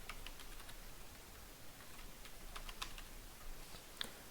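Faint, sparse keystrokes tap on a computer keyboard as a username and password are entered, quiet clicks over a low background hum.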